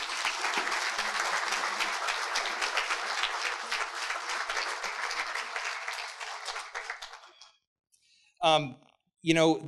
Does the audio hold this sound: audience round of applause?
yes